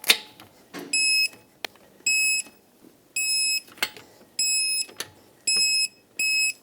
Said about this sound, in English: in a cross pattern, we'll torque them to 110 foot-pounds